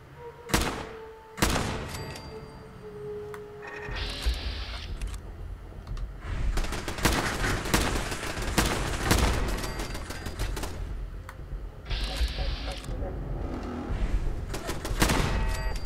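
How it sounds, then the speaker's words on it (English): Laser turret firing in Fallout 4, bursts of sharp repeated energy shots and impacts arriving in clusters over a rumbling game soundscape, loud and close with short gaps between volleys. "A laser turret now."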